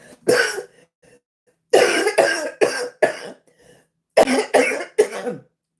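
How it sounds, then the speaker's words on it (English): A close, loud series of harsh coughs from lupus-affected lungs in three clusters, a single hack followed by groups of three or four, separated by brief silences. "lupus affected my lungs, so it caused me to cough a lot"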